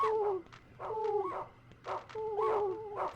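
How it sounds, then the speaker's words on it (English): A flock of birds in the video game Rule of Rose gives repeated cooing, wavering calls in several bursts. The calls are fairly loud and close, over a low background hum. "That's a lot of birds."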